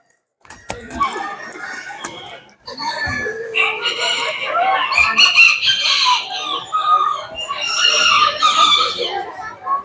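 Chickens and a rooster at a bird show cluck and crow loudly and almost without a break, with sharp knocks and thumps at the start and scattered busy sounds throughout.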